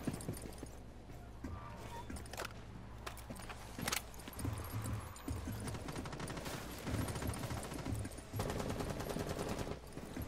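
Rapid video-game gunfire bursts from Rainbow Six Siege crackle through a busy, dense mix with clattering impacts, loud and close throughout.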